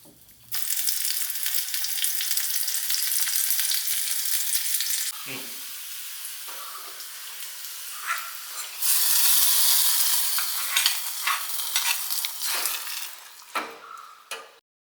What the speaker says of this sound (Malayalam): വെളിച്ചെണ്ണയിൽ തന്നെ വറവിടാം.